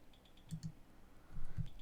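A computer mouse clicks a few times: faint, quick clicks in a pair, then another short cluster, in a quiet room with no talking.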